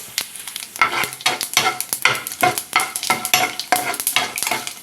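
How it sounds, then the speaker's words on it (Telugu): Chana dal, urad dal, mustard seeds and cumin seeds frying in hot oil, a crackling sizzle punctuated by rapid rhythmic scraping stirs of a spoon, close and steady. "ఇప్పుడు శనగపప్పు, మినపప్పు, ఆవాలు, జీలకర్ర వేస్తున్నాను"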